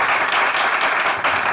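Audience applause from a studio comedy show, a dense burst of clapping that carries on steadily and fairly loud for a second and a half with no talk over it.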